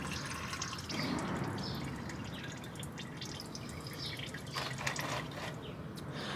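Used motor oil draining from a Chevrolet Silverado or GMC Sierra into a large oil pan, a steady liquid pour and trickle with dripping and splashing that continues unbroken throughout.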